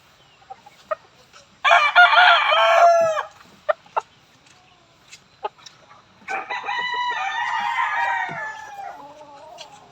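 A four-month-old Allen Gray gamefowl rooster, a stag still growing in its full plumage, gives one loud crow, then after a short pause breaks into a longer, steady run of clucking calls, close by with no talking.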